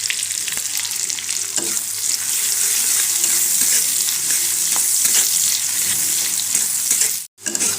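Sliced large onion sizzles steadily in hot oil in a pan, a loud continuous frying hiss with light stirring scrapes throughout and a brief dropout near the end.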